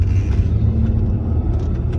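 Car merging onto the A3 Autobahn toward Cologne, a constant deep road and engine rumble heard from inside, steady and fairly loud with no voices.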